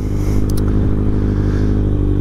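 A new Kawasaki ZX6R sport motorcycle engine drones steadily and loudly at a constant pitch while being ridden, with rushing wind noise layered over it throughout.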